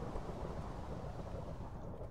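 Thunder rumbles through steady rain during an acid-rain storm in a video game, a continuous low roar with a dense wash of noise that holds at an even level for the whole stretch.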